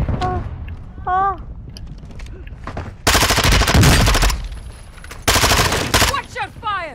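Sustained automatic gunfire in Call of Duty Warzone, two long rapid bursts of loud close shots, with talk and game sound effects in the gaps between them.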